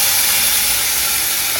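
Cumin seeds sizzle in hot oil for vada pav, making a loud, continuous bright hiss with no pauses over a brief moment.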